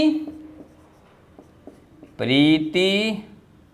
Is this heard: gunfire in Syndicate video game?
no